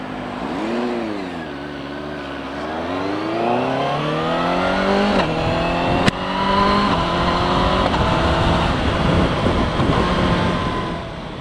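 A CFMOTO 750SRS motorcycle engine revs hard and accelerates, its pitch climbing through successive upshifts, loud and close with wind rush during a fast road ride.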